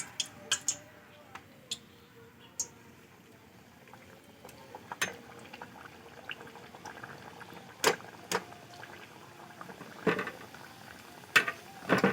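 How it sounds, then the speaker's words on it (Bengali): A Dhaka-style paratha fries slowly in oil over low heat. Quiet bubbling runs throughout, broken by scattered faint pops and crackles that grow a little busier toward the end. "এবার কম আঁচে আস্তে সুস্তে ধীরে সুস্তে আমি ভেজে নিচ্ছি"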